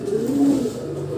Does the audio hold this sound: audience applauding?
no